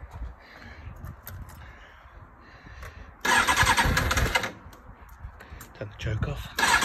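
A Kawasaki ZX6R motorcycle engine cranks over under low rumbling, then catches and roars loudly for about a second and a half before dropping back, with more revving bursts near the end; a voice speaks faintly during the cranking.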